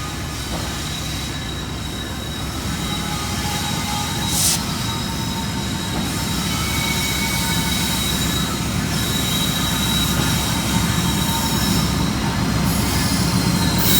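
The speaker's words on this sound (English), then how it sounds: "It's been 5 hours since the train's gone through." A long freight train rolls past at Thurmond, West Virginia, its wheels squealing loudly and steadily over a constant rumble of rail cars, close by and unbroken for the whole stretch.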